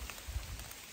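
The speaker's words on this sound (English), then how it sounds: "the rain has come, and apparently it's going to be this rain for the next week" Rain patters steadily outdoors, a dense hiss of drops landing on surfaces, with a few low rumbling thumps mixed in.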